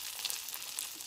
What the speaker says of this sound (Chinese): 熟的地方再把它放在这边多煎一下